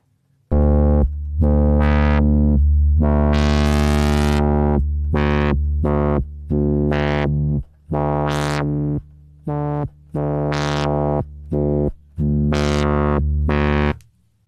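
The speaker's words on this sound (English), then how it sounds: "Sample and hold is a kind of random stepping of the LFO wave." A synthesizer sample and hold LFO steps a buzzy, harmonic-rich tone through random pitch jumps, each held briefly before the next, loud and continuous, forming a choppy stepped melody.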